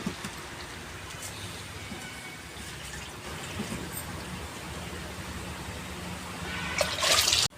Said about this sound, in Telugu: ఇప్పుడు నేను ఒకటి నర నీళ్ళు పోతాను